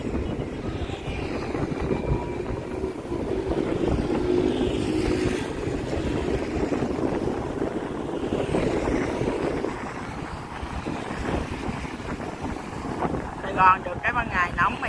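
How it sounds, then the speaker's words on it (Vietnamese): Strong wind blows across a boat out on the water, a continuous roaring buffet with a low engine-like rumble beneath it, steady and close throughout. "gió lồng lộng luôn"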